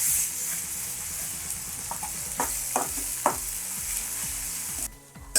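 Fried onions are stirred with turmeric and ginger-garlic paste in hot oil, giving a steady close sizzle with scraping spoon strokes and a few sharper clicks, then a brief quieter pause near the end.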